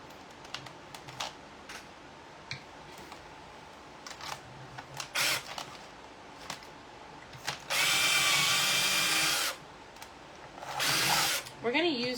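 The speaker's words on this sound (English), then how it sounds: "so we're just going to drill a hole further" Power drill boring a hole into a plastic glider treehouse toy, with short whirring bursts among small clicks and handling taps, then a longer sustained drilling run near the end.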